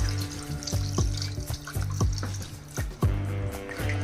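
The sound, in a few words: water being poured into curry pan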